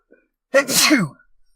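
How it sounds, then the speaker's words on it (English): A single close, sharp sneeze bursts out after a brief moment of quiet, then trails off. "Pardon me, I had to sneeze."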